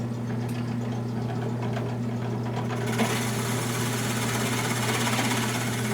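Drill press boring into olive wood: a steady motor hum with strong tonal lines, then a broad hiss of cutting that swells from about halfway through, close and continuous with no talk.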